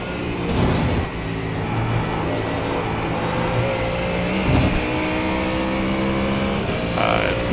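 A Ford Mustang GT3 race car engine roars continuously in iRacing sim racing at Daytona, a loud, steady high-revving drone with brief shifts and swells in pitch throughout.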